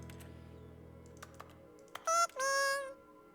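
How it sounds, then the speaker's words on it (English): A few faint, scattered keyboard-like clicks are followed by two brief, brighter key-typing bursts, triggered by clicking in the video game The Stanley Parable: Ultra Deluxe. "Why does it make it a keyboard sound when I click on it?"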